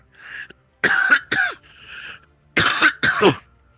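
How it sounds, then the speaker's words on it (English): A man sick with flu coughs in two harsh bursts of double coughs, close and loud, with a softer throat sound between them. "Seriously, I've had this flu, dude, the cough has not gone away"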